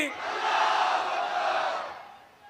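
A large crowd at a political rally in Aayesha Nagar Chowk roars a unified shouted response to a Takbir slogan, a sustained loud collective cry that swells and then tapers off.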